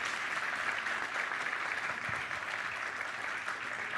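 Sustained, even applause with cheering from a panel-discussion audience celebrating the women's cricket team, a dense wash of clapping with no breaks from start to end.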